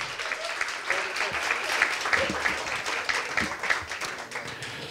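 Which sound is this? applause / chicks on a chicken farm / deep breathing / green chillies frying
applause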